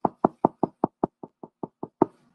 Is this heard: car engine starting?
no